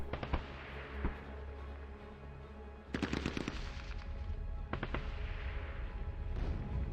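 Bursts of MG4 machine gun fire in the WW2 tactical video game Tigers on the Hunt, rapid crackling volleys in several separate bursts over steady low background rumble, with no talking.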